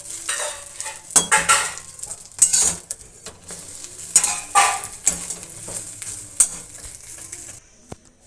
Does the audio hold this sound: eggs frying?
yes